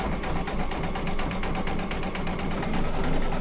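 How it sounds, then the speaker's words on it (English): An embroidery sewing machine stitching flowers on an in-the-hoop mug rug, a fast steady mechanical whirring with a rapid even needle rhythm, close and continuous. "we gotta stitch the insides of the flowers"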